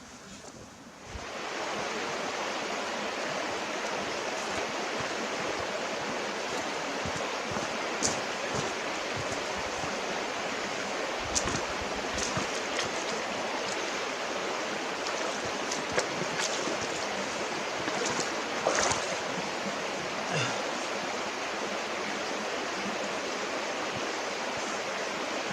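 A flowing creek rushes steadily and loudly close by, a continuous broadband wash of water with a few faint knocks and no talk.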